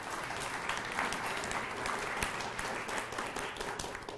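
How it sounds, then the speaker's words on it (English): Applause from an audience during a classroom-teaching talk, continuous clapping with distinct sharp hand claps over a steady wash, holding fairly even volume throughout. "hold your applause"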